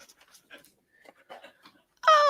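A puppy lets out a short, high, wavering whimper at the end, loud and close after a stretch of faint rustling.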